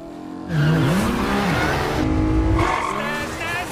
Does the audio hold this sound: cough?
no